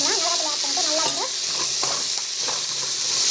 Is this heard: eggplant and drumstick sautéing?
yes